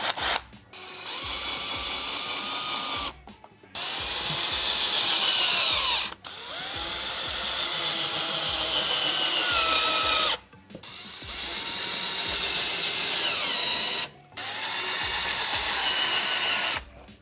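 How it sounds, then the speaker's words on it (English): A power drill drives screws into the front lip splitter of a 2023 Subaru BRZ, its motor whirring in four long bursts separated by brief pauses, close and fairly loud with no talking. "grab some screws, grab your drill and drill them in"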